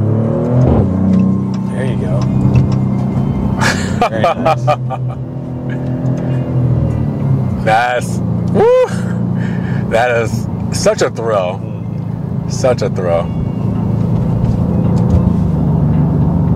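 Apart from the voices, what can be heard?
Maserati GranTurismo Trofeo engine revving in sport mode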